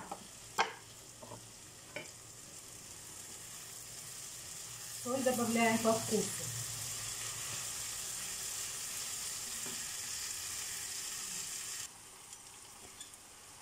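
Chopped onion and half-cooked eggplant fry and sizzle in a skillet, a steady hiss under talk with a brief louder burst of stirring.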